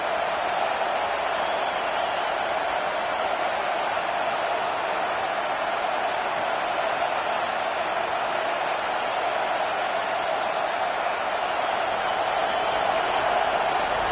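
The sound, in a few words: stadium crowd cheering at a football game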